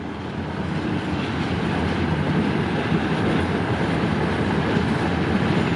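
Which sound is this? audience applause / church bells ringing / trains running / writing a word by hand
trains running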